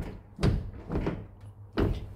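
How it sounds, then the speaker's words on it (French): A rusty VW Beetle door is lifted up and down on its worn hinges, giving three dull, fairly quiet metallic clunks spaced out over a couple of seconds, with no talk. "On soulève la porte."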